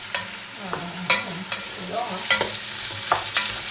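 Onions sautéing over high heat with thyme, bay leaf, parsley and a little leek for fish soup, a bright sizzle broken by several sharp spoon scrapes and taps against the pot.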